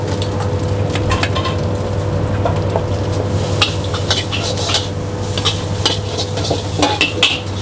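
Seafood is stir-fried in a hot wok with cabbage and greens, a loud steady sizzle under repeated scraping and clanking of a metal spatula against the pan, heard close with no talk.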